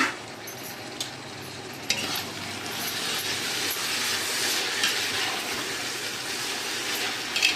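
Ginger garlic paste and masala being sautéed in a pot for mutton paya biryani give a continuous, even, close sizzle with a few soft clicks of stirring and no voices.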